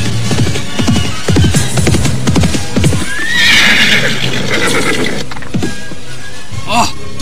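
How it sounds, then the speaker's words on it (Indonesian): Horse hoofbeats from an audio drama come closing in at a gallop, loud and rhythmic, followed by a sharp neigh and a few last clops. "tiba-tiba mereka dikejutkan oleh derap kuda yang datang ke arah mereka"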